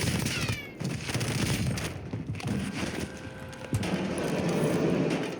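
Rapid bursts of submachine gun fire from the video game Warzone, dense and continuous with clattering shots layered over game ambience, moderately loud throughout.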